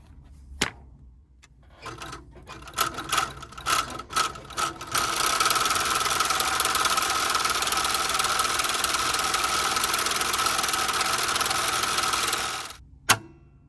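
A sewing machine stitches Shinki leather on a Viberg 2040 service boot, starting with a few short bursts and then running steadily and loudly for about seven seconds before stopping with a clunk.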